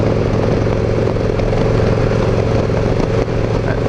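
Victory Cross Country touring motorcycle with a Freedom 106 V-twin engine, a 2015 demo bike, rumbling steadily at close range, a continuous deep throbbing drone with no talk.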